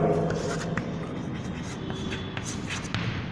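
Chalk or a pen scratches across a board in a classroom maths lesson, with short irregular strokes and taps under steady background noise, while a teacher talks faintly.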